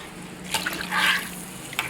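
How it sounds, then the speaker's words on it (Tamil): Water is poured into a cooking pot while a drumstick-leaf dish is being cooked. There is a short, splashy pour of running water, with faint drips before and after it. "தண்ணி ஊற்றிக்கலாம்."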